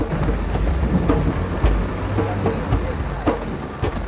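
Heavy, cold rain pours down steadily during an Indian safari, a dense close hiss with scattered low rumbles beneath.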